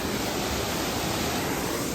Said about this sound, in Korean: 여기는 진짜 자연적이네요. 이런 폭포도 있고